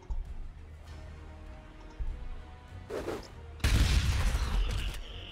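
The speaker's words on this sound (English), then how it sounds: "Grenade him, see what kind of damage we can get." A grenade detonates in the Warhammer 40,000: Gladius strategy game, a sudden loud burst of explosive noise that holds for nearly two seconds over a low rumbling backdrop, preceded by a brief softer crackle.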